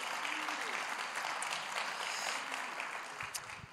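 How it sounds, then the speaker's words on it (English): Church congregation applauding fathers at a Father's Day service, a steady round of clapping heard at a moderate distance, continuing until a few brief voices break in at the close. "Let's give the dads all a round of applause."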